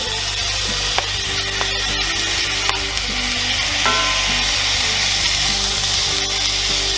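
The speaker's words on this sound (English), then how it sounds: "Now that all our veggies are in, we're going to cook until our onions become translucent." Onions, peppers and zucchini sizzle steadily in a hot pan, a continuous close frying hiss with occasional faint clicks and stirring knocks, no voices.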